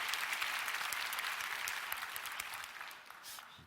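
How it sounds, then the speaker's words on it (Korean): An audience at a church prayer meeting breaks into brief applause, a bright, even patter of many hands that fades slightly toward the end. "별거에 박수를 다 치네요."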